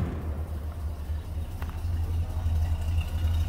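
A 1968 Cadillac DeVille convertible's 472 V8 idles steadily with a deep, low rumble through a stock exhaust, recorded close from the rear, with faint clatter and no talking.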